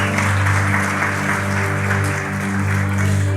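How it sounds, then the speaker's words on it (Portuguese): Audience applause at a church service, a dense steady wash of clapping that stays loud for several seconds over a sustained low musical hum. "Se é para Jesus, pode aplaudir mais alto"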